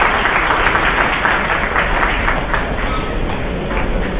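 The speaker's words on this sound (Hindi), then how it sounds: "आपकी तरफ से जोरदार तालियों के साथ करना चाहिए।" Loud, dense applause comes from the audience at a spiritual gathering and continues without a break, close and steady from start to finish.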